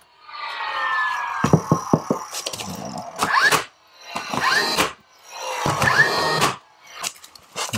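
A pin nailer works along a spliced baseboard trim scarf joint, firing in short bursts of sharp mechanical clacks with whirring bursts between them, loud and close with no talk.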